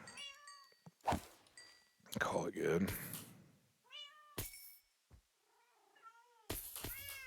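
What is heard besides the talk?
cats meowing, likely from a video game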